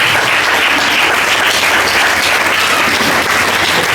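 A Hindi-speaking church congregation at a Sunday live meeting claps hands in thanks to God, a loud, dense and unbroken roar of clapping that fills the hall from start to finish.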